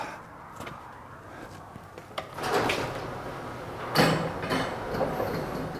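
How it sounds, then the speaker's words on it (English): A door on a work truck or trailer being opened in a welding shop, giving a rolling, sliding rumble that swells with a loud clunk midway, fairly close. "Go ahead and open this door up."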